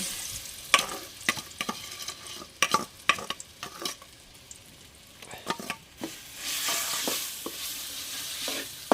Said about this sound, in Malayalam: ഈ നെയ്യിലിട്ട് ഈ ചക്കയൊന്ന് നമുക്ക് നന്നായിട്ടൊന്ന് വഴറ്റിയെടുക്കാം